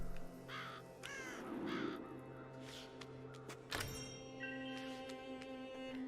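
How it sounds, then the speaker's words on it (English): Crows caw repeatedly in the video game Child of Light, with several separate harsh calls spread across a steady tonal game-music background and no talking. "It does seem that there is a lot of birds here. Crows to be exact."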